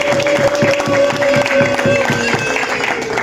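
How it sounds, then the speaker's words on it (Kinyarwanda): A crowd at a Rwandan wedding claps steadily to welcome the bride, a dense, even wash of applause running throughout alongside a sustained musical tone. "mu mukomera amashyi"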